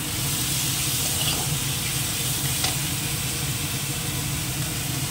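Masala paste of chilli and garlic sizzles steadily in a pan while being stirred, a continuous close frying hiss with faint scraping and no voices.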